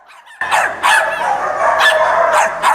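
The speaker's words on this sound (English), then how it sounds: "Kennel by kennel, you'll see eager dogs at Aggieland Humane Society hoping to find a forever" Dogs barking in the kennels of an animal shelter, loud repeated barks and yips from several dogs close by in a reverberant room, coming in quick irregular bursts.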